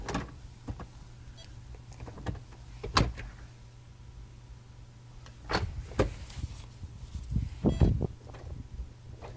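A WELOCK SOHO smart lock's motor spins freely after a badge test on a door, giving several short whirring bursts spaced across the clip against a low steady hum, with quiet handling noises between them.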